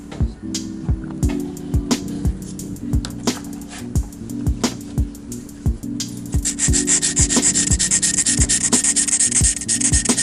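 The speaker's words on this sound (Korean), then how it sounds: "파일링을 해서 모양을 먼저 만들어 줄게요" A nail file works a gel nail extension to shape it, giving close rhythmic scraping strokes that speed into a dense continuous rasp toward the end over a low steady hum.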